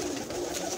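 A racing pigeon coos close by, a soft continuous burbling that fills the short moment with no talk over it.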